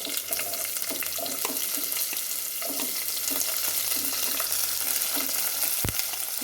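Onion, ginger and green chili sauté in a pan for Kerala-style palak paneer, giving a steady close sizzle with scattered stirring scrapes and clicks throughout and no talking.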